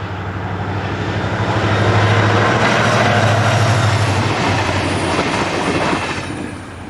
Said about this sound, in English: as a Class 333 diesel-hauled local train heads for Burgos